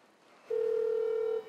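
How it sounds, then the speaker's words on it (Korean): A single steady electronic telephone tone sounds in a small office inside a shared workspace while a call to a company contact goes unanswered, clear and fairly loud for about a second, with quiet room noise before it. "제 전화를 안 받아요, 지금 계속."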